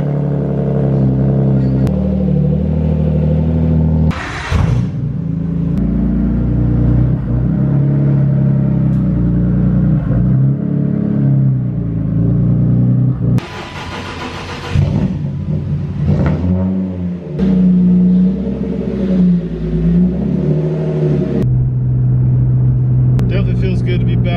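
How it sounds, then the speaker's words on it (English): A Nissan Skyline GTR driving with a loud, close interior engine drone, rising and falling through gears, with sharp rev bursts near the start and middle while a person talks over it. "Feels good to be back in the Skyline. Currently just driving around a little bit."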